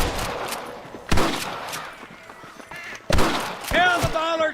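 Sniper rifle shots crack out in Red Dead Redemption, a few sharp, loud reports spaced seconds apart, mixed with game voices and other in-game sound.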